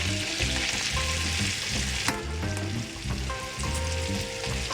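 Kashmiri red chili and coriander powder sizzle steadily in a pan of butter and oil, a dense, close frying crackle with occasional stirring scrapes and a sharp clink partway through.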